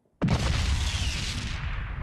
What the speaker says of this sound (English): The sound of an explosion.